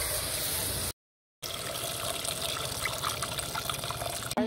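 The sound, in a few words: boiled tamarind water poured into the curry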